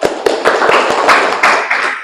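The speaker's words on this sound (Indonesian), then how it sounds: "Tepuk tangan." A classroom of students claps together, a fast run of sharp overlapping hand slaps lasting about two seconds, loud and close with a few stronger individual claps standing out.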